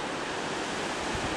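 Ocean waves washing in at Victor Harbor, making a broad, continuous roar of surf mixed with wind noise, steady and fairly close with no speech.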